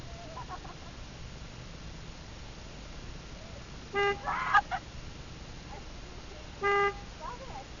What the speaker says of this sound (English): Stop honking my horn!